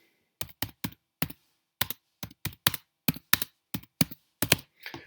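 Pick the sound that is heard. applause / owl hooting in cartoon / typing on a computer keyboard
typing on a computer keyboard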